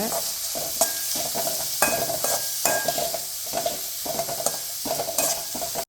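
Onions sizzle and fry in hot oil while a spoon stirs and scrapes the pan with steady clinks, close up, while cooking paneer gravy.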